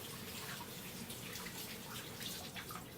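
Tap water running steadily over food in a container under a kitchen faucet, a soft continuous splashing rush at low level with no voices.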